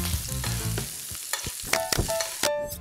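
Scallops sizzle in a hot pan as butter is added near the end of cooking and spooned over them, a close crackling fry broken by clinks and scraping of a utensil.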